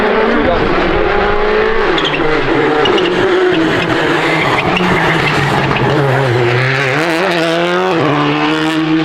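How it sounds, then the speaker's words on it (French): A rally car races past on a Monte Carlo Rally stage, its engine revving loudly with shifting pitch and tire squeal, close by and sustained for several seconds, with people talking over it. "Il y a une voiture qui passe derrière."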